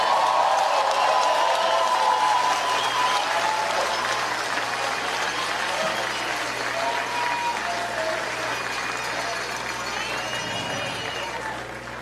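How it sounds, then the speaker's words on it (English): Crowd at a 2020 US election rally applauds and cheers, a broad wash of clapping that starts loud and slowly tapers, with a voice over a loudspeaker speaking through it. "give him a round of applause"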